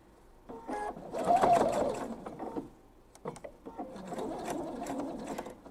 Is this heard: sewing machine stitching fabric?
yes